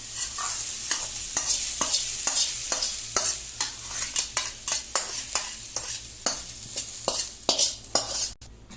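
Sautéed onions are scraped and folded into sago dosa batter, giving a steady, close rhythm of repeated wet spoon strokes over a soft sizzle and pan clatter, with no one speaking.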